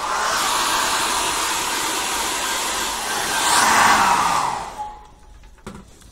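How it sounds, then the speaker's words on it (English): A hairdryer blows steadily to dry wet acrylic paint on a dragon painting, its loud broadband whoosh rising slightly in pitch before switching off near the end, leaving quiet room tone. "Let's dry that off with a hairdryer."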